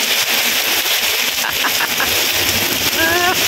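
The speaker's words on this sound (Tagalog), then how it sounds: "Lalong lumakas pa ang ulan." Heavy rain falling in Macau, a steady broadband hiss that fills the whole clip, with brief faint tonal chirps and a short whistle-like sound near the end.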